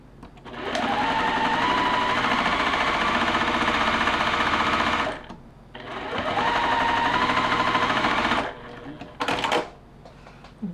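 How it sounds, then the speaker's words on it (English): A sewing machine stitches a quilt block for a holiday turkey pillow, running in two long, steady, close bursts of several seconds each with a short pause between, then a brief final spurt. "we're going to put it right in the middle, and we're going to sew it"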